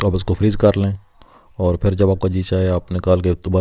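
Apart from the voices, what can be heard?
No everyday noise stands out behind the speech.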